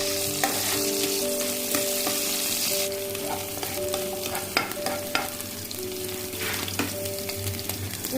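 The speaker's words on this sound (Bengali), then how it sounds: "সবগুলো খুব ভালোভাবে তেলের মধ্যে ভেজে নেব" Chopped onion, green chili and garlic cloves frying in oil, a loud continuous close sizzle with repeated spatula scrapes and clinks against the pan, no voices.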